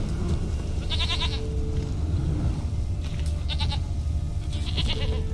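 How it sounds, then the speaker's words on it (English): Goat in The Witcher 3 game gives several nasal bleats, repeated a few times over a steady ambient game soundscape with a low rumble. "Is that the goat?"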